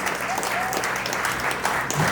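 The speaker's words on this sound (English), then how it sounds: "another round of applause" An event audience gives a presenter a sustained round of applause, dense steady clapping with a few voices mixed in.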